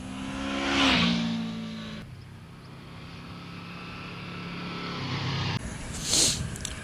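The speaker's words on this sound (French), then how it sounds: "La sonorité en plus développée par ce V4 au moment de l'accélération et de l'ouverture du VTEC est vraiment très enivrante pour le pilote." Honda VFR 800F V4 motorcycle engine from 2014 accelerating as its VTEC engages, a rising throaty roar that swells, drops away, then climbs again, heard from nearby without talk.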